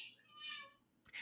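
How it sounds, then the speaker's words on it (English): A house cat meows once, a drawn-out close call, followed by a brief knock or rustle. "I'm sorry, I have a noisy cat."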